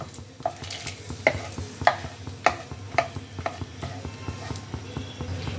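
Two cracked cardamom pods and a bay leaf are stirred in hot ghee for carrot halwa. A spoon scrapes the pan in a regular rhythm of close taps over a soft sizzle.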